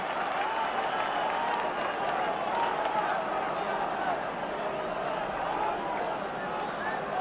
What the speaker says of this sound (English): The Cork crowd saluting that 2nd point by Teddy McCarthy